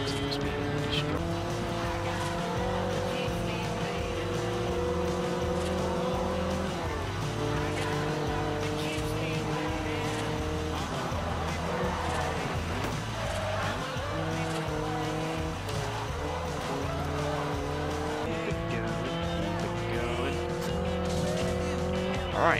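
Cars race in the Forza Horizon video game, engines revving up and down through repeated gear shifts with tire squeal, loud and continuous while a voice talks over them.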